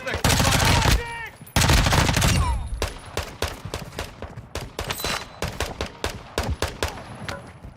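Heavy automatic gunfire in the shooter Warzone 2 DMZ: two long, loud sustained bursts, then a rapid string of sharp individual shots and short volleys, close and intense.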